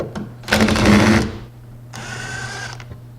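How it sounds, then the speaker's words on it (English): A power driver backs screws out of a Kingston 4-tier shelf unit: one loud whirring burst, a short pause, then a second softer, steadier run, close by and without talk. "I'm just going to work my way around and actually take all these screws out here"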